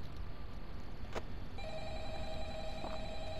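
A telephone rings in the Five Nights at Freddy's video game, a clear electronic trill starting partway through and sustaining over a steady ambient hum.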